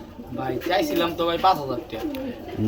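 Pigeons, including a male Giribaz pigeon, coo in soft, rolling throaty phrases nearby, repeating several times, with a person talking over them.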